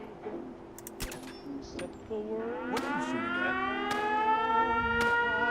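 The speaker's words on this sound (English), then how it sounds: "And the siren goes off to let people know that there's being an attack on the settlement" A civil defense-style siren sounds across a settlement in Fallout 4, a sustained wailing tone rising and sweeping in pitch over several seconds, steady and fairly loud. Some speech is present as well.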